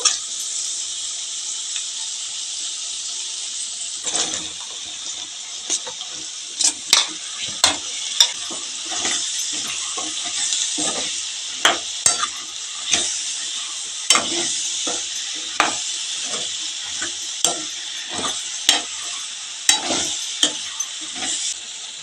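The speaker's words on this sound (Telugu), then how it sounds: "అల్లం వెల్లుల్లిపాయ పేస్ట్ పచ్చివాసన పోయేదాకా వేగనిద్దామండి" Ginger garlic paste, onion and brinjal pieces frying for a village-style prawn curry, a constant sizzling hiss broken by repeated sharp scraping clicks of a spoon stirring the pan, close up with no talk.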